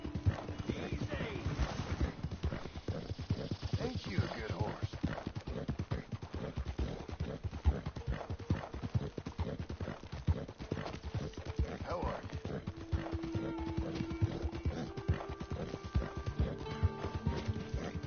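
Horse hooves clip-clop in a steady walking rhythm, joined by a whinny, while a voice speaks over the steps, in the video game Red Dead Redemption II.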